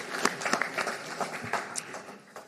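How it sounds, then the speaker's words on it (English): Applause for two candidates at an election meeting, a modest round of clapping from a small crowd in a room, steady and fairly close, with some voices mixed in. "one last round of applause for our two kura tau whānau"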